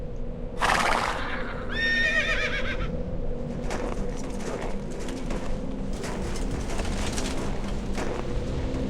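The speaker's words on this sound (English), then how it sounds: "Leave the horses." Horses neigh and whinny with hooves clip-clopping in a World of Warcraft movie scene, a loud whinny near the start followed by ongoing hoof and ambient clatter through the rest.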